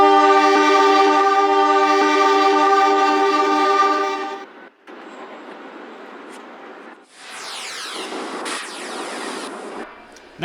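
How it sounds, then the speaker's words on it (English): Northbound train arriving at a station in the Trainz railway simulator: a loud sustained horn blast for about four seconds, then rumbling wheels and rolling noise with high screeching brakes as the train pulls in. "Here we have a northbound train arriving on the left."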